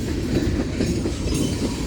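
A short BNSF freight train led by Dash 9 locomotive 5187 rolls through Central Avenue, a loud, steady rumble of rail cars with a faint rhythmic clatter of wheels.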